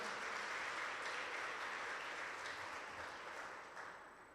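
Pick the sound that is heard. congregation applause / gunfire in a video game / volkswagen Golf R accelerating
congregation applause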